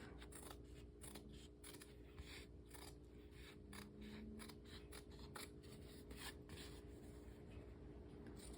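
Scissors cut a paper tag bookmark in a series of close, quiet crisp snips with a regular rhythm, alone without talk.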